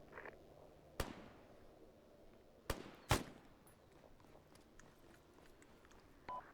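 Artillery fire in the military game ArmA: three sharp, booming impacts about a second apart, the last loudest, each trailing off over a low rumbling background.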